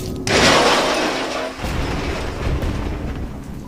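A sudden loud crash of shattering glass, followed by a steady, rushing hiss like heavy rain that continues to the end.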